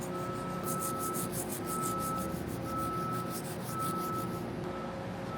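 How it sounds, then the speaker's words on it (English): Wire brush scrubbing loose coating off a ductile iron pipe, a steady close rasping stroke repeated about every second over a constant background hum, with no speech. "You can use a wire brush for this application."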